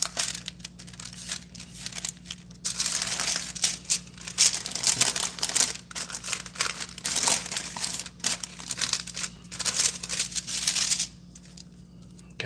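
Crinkly, rustling handling of paper as it is folded and rolled on a kitchen counter during keto cheese cracker prep, a steady near crumpling that goes on and then quiets at the end.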